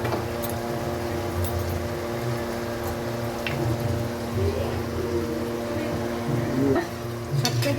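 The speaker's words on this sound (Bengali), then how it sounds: "এবার এই মশলাটা পুরো ভাজা ভাজা হবে" Salt, turmeric and dried chili powder fry in oil in a pan for a chicken dish. A steady sizzle runs throughout, with occasional stirring scrapes and clinks and faint voices in the background.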